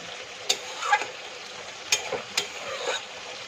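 Pointed gourd pieces going into a simmering shrimp curry, with a soft steady bubbling sizzle broken by a few sharp clinks and stirring scrapes, close and fairly quiet, no talking.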